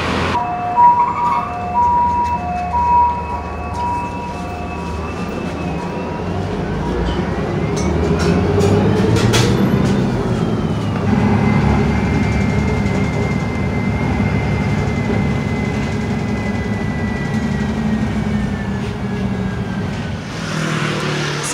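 A city bus in Taipei carries its passengers with a continuous, close engine rumble, topped by whining tonal hums that rise and shift as it moves, with no talk.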